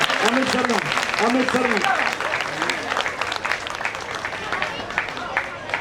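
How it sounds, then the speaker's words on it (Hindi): Applause from an audience at a Ganpati puja gathering, a dense, steady wash of clapping under a voice speaking over it at the start. "ऐसी ताली थोड़ी होती है यार, जोरदार तालियां।"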